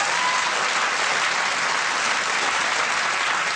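Studio audience applause on a British TV chat show, a dense, steady wash of clapping from a large crowd, loud and continuous throughout without pause or talk.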